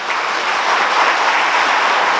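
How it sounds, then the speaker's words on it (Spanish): A lecture audience gives loud, dense applause for a physician taking the stage at a health conference, a continuous wash of many hands clapping close by, with no voices. "les pido un fuerte aplauso para el Dr."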